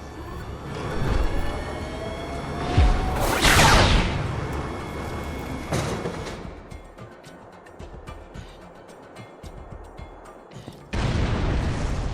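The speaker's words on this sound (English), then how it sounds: "Please fire the cannon again." A cannon fires in the video game Borderlands 2, a loud boom with a rushing whoosh over a dense game soundscape, followed by rumbling and another burst near the end.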